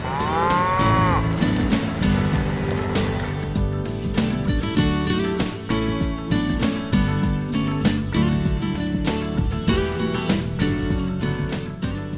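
Farm cows moo loudly and repeatedly, long low calls overlapping one another in a steady chorus of cattle in a field, with no talking throughout.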